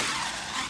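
Traxxas X-Maxx RC truck ripping across dirt with its tires skidding, a brief, loud, steady hiss of spinning wheels and gritty tire scrub.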